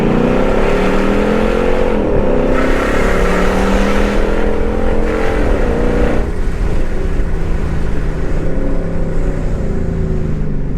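A 2003 Mercedes-Benz SL55 AMG fitted with a MISHHA R230 wide body kit accelerates in a burst, its engine note loud, close and continuous, climbing and dipping with gear changes throughout.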